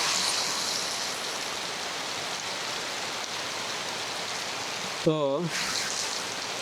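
Heavy rain pours steadily on a rural yard where rice is being boiled over a lit clay stove, a dense, unbroken hiss filling the whole stretch, with a brief voice cutting in near the end.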